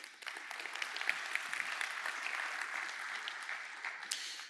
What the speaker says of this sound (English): maybe we can give a big round of applause for them.